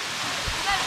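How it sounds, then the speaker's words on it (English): Steady broadband rush of a waterfall at Hatcher Waterfalls in St Vincent, a loud continuous roar filling the brief moment. "Waterfall."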